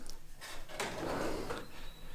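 A workshop drawer slides open or shut, a quiet wooden scrape with a couple of soft bumps, close by in an otherwise still room.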